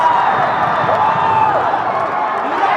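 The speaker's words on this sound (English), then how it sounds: "The crowd screaming, Issac, Issac." A loud arena crowd at a fight roars and chants a fighter's name, forming a dense, sustained wall of cheering and shouting voices with no break.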